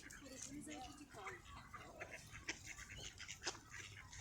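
Ducks quack in a rapid, busy chorus close by at a park lake, mixed with people talking.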